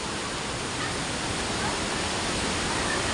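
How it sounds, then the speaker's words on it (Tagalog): Pondol Falls, swollen after a typhoon, sends up a dense, steady roar of water that fills the whole clip at a constant level. "Kami dito, tingnan namin yung falls."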